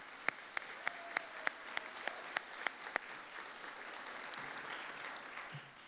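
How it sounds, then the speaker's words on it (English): Audience applause at a talk event fills the room at moderate level, with a few sharp individual claps standing out early on before the clapping settles into an even, fading patter. "So let's give them all a round of applause."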